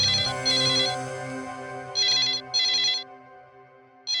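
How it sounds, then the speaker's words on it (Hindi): A telephone rings with electronic trilling bursts, three clear rings in a row in a quiet indoor scene with a low background tone. "शायद किडनैपर का फोन होगा।"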